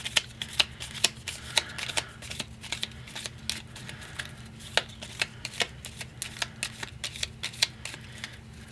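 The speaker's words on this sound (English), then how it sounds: "So I probably need to do a good shuffle here" Playing cards are shuffled repeatedly, with quick riffling bursts and soft snaps in a steady rhythm, close and fairly quiet.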